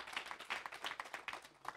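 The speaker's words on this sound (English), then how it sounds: "Give her another round of applause." Audience applause at a church gathering, a dense patter of many hands clapping steadily for a couple of seconds, fairly loud and close with no talk over it.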